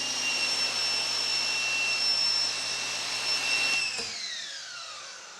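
A Ryobi pressure washer runs with an MJJC Pro V3 foam cannon attached, a loud steady high-pitched whine and hiss that cuts off near the end, its tone sliding down as it winds away, with no speech.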